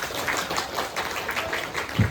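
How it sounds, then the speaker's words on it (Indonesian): A village government program review meeting audience gives a brief burst of dense clapping, close and fairly loud, lasting about two seconds with no speech over it. "Kita tepuk tangan untuk ini."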